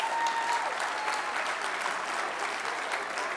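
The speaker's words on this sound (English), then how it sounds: "big round of applause for everybody" A keynote audience breaks into loud, sustained applause, dense clapping from a large crowd that fills the room evenly from start to finish.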